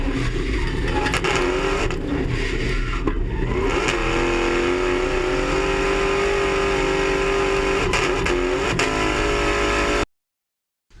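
A supercharged V8 in a BMW drift car with a full exhaust system, front to back, runs steadily and loud for about ten seconds with a rising, sustained engine drone, then cuts off abruptly.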